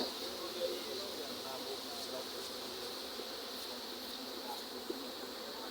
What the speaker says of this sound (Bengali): বাক্সে মৌমাছি চাষ করা হচ্ছে।